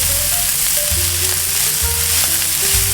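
Onion frying in a pan for a beef burrito filling, a continuous close sizzle with a low background hum and no talking.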